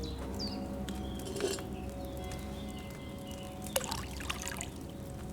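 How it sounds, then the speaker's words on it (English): Water poured into a pot inside Kingdom Come Deliverance 2, heard as a soft, steady trickle and patter under a faint background hum, with a couple of brief clinks partway through. "So, what did you pour in there? Water."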